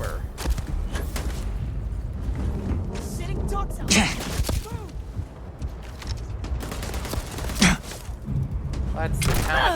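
Bolt-action rifle fire in the space game Starfield, a few sharp shots spaced through a steady bed of in-game noise and rumble, with a louder crack near the end.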